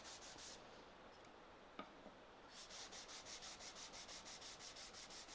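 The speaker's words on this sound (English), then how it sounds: "I don't want to overdo the sanding, just enough to take the furry bits off" Sandpaper lightly rubs over a wooden dovetail wall cabinet in quiet, close strokes, first with a few irregular passes and then with quick, rhythmic back-and-forth strokes.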